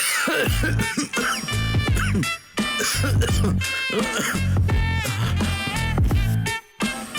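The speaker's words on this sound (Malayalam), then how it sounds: "അവൻ ചുമക്കുന്ന കണ്ടില്ലേ?" A man coughs repeatedly in rough bursts over a steady musical background in a TV drama scene, with a short throat-clearing sound among the coughs.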